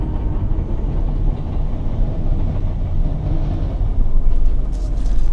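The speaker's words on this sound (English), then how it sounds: "Oh, there's the train. Perfect timing." A Fuji-Q line train passes by near Kawaguchiko, heard from a car on a narrow back road as a steady low rumble with faint rail clatter that swells toward the end.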